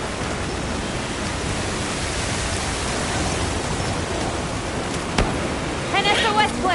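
Heavy rain pours down steadily in the Monster Hunter Wilds video game, a dense hiss that runs unbroken throughout, with a brief sharp knock near the end and faint voice-like sounds at the very close.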